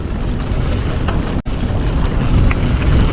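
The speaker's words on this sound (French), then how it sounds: "Il y a du vent." Wind roars steadily across the microphone during a mountain bike ride on a muddy single-track trail, a loud, dense rumble that drops out for an instant before returning.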